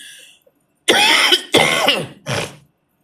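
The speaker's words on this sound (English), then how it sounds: "I don't know why I'm coughing right now" Three harsh coughs in quick succession, close and loud, after a moment of near silence.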